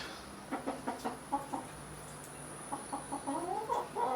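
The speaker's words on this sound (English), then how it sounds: "these chickens seems they are hungry too" Several chickens cluck in short, quiet bursts close by, with a steady faint background hum underneath.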